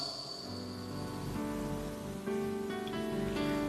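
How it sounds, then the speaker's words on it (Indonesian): Steady rain patters on a surface under soft, sustained piano music, the notes holding and shifting chords while the rainfall hiss stays constant throughout, with no voices. "Suara hujan plus suara piano enak tuh."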